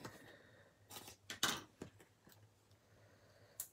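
Scissors cutting card paper while making handmade cards, several close, crisp snips in an uneven rhythm with a final cut near the end, quiet and without talking.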